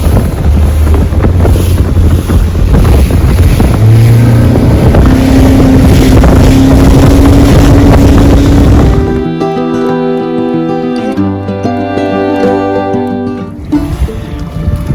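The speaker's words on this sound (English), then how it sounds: "little bit of wind on the go now" Steady wind buffets the microphone by a lake near boats, then gives way to a gentler rushing ambience with faint water lapping.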